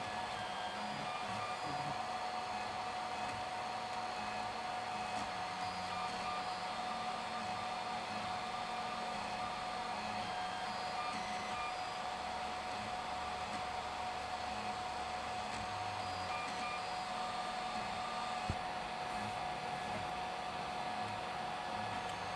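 A 3D printer printing square tube end caps gives off a continuous whirring hum with steady fan noise and faint tonal stepper-motor whines, constant and unbroken throughout.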